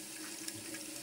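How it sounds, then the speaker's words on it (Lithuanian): A steady stream of tap water runs into a clogged kitchen sink whose drain is not emptying, a constant close splashing rush with no talk. "Paprileisiu vandens arba sumažinsiu srovę."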